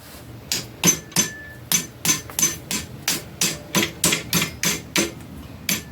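A small hammer taps on a Honda ATC350X rear shock during restoration, striking about a dozen sharp, close, evenly spaced blows.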